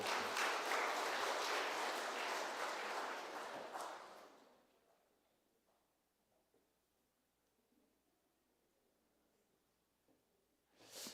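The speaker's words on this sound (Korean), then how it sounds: "여러분 축복하면서 우리 박수." Church congregation claps together during a Korean Sunday service, a brief burst of applause for about four seconds that fades into near silence before a faint stir at the end.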